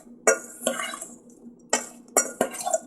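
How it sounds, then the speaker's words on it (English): Peeled, deveined raw shrimp tossed with seasoning in a bowl for a pineapple shrimp stir-fry, giving several close, distinct clinks and knocks of utensil against bowl with soft shuffling between them. "We're just going to put it in a bowl here like this, right on the shrimp, and then toss."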